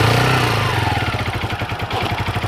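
A motorcycle engine revs and then settles into a steady, pulsing chug as a beginner rider feeds in gas and eases out the clutch, loud and close with no talking over it.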